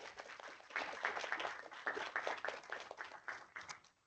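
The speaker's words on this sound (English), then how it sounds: "So join me in giving Jywanza Watt a round of applause." An audience claps for a speaker being introduced on a leadership book club call, a thin, uneven patter of hands heard faintly as if over a remote connection, fading out at the end.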